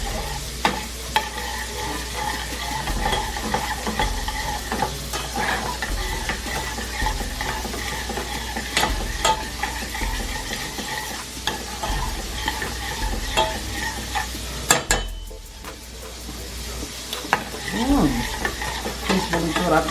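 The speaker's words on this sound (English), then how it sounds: "We're gonna stir it up." Korean fried chicken being stirred in a hot pan with sweet red sauce, a steady close sizzle and frying hiss running throughout, with scattered scraping and clinking of the utensil against the pan and a brief dip near the end.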